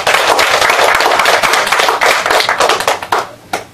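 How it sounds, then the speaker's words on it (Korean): Audience at a scholarship foundation event applauding a newly appointed chairperson, a loud, dense burst of many hands clapping that thins into scattered, separate claps and fades near the end. "다시 한번 큰 박수 부탁드립니다"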